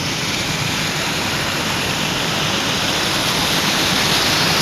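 A Himalayan mountain river flowing over stones between hillsides, a loud, steady broadband rush of water that stays constant throughout, close by and unbroken by voices.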